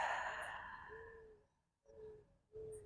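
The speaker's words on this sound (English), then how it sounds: "Inhale through the nose, exhale through the mouth" A quiet, drawn-out exhale through the mouth during gentle yoga breathing, followed by a pause and two shorter, softer breaths, all close and calm.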